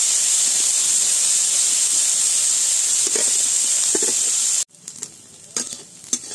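Sliced home-grown figs frying in a pan with turmeric powder, a steady bright sizzle that cuts off abruptly, followed by quieter sizzling and a few clinks of stirring.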